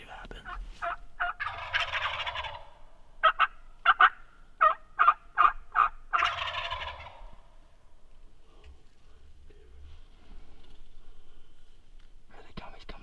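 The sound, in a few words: wild turkeys gobbling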